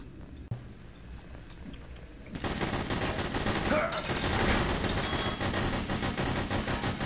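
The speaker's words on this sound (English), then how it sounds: "You know when one person starts firing, you fire for no reason" Gunfire in the multiplayer game Hidden: Source, breaking out suddenly after a quiet stretch into a sustained, dense barrage of rapid shots that carries on steadily to the end.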